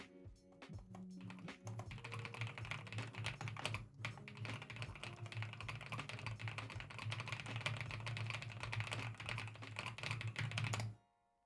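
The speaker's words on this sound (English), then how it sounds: "Did you hear me typing?" Rapid, steady computer-keyboard typing clatters close to the microphone for about ten seconds, dense continuous key taps that stop abruptly at the end.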